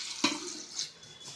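Water splashes and runs briefly into a cooking pot, with a couple of quick pouring bursts close by.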